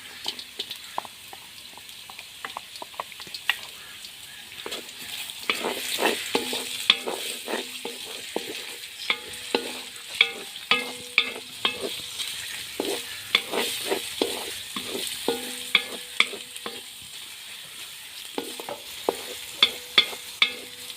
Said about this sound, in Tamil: கரட் அரைவாசி வதங்கினது பிறகு வெங்காயத்தையும் சேர்த்துக்கலாம்.